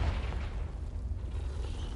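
The Confringo explosive spell goes off in the game Hogwarts Legacy, a deep, rumbling blast with a heavy low-end boom that fills the short moment and fades slightly.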